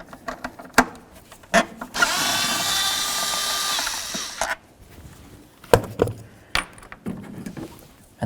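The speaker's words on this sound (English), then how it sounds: "Now let's remove this bolt right up here." A bolt is backed out of the driver-side valve cover on a 2007-2017 Ford Expedition with a power tool, giving one steady whirring run of about two seconds between sharp metallic clicks and clanks.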